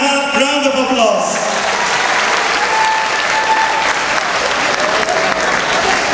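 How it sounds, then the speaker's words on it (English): Sustained audience applause at a gymnastics club show, dense and loud throughout, with a brief voice at the start before the clapping fills in. "give them another one half round of applause."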